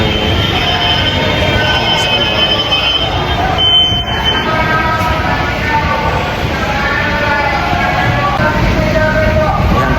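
A loud, constant rumble of a metro train at an MRT station in Manila fills the space, with a rushing roar and a faint high electronic tone over it.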